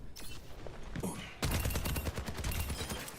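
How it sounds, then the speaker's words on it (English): Rapid bursts of video game gunfire as a player shoots an ability that fires a small missile, dense and loud from about 1.4 seconds after a quieter opening, with a faint voice underneath. "You're shooting. You're shooting. You're shooting."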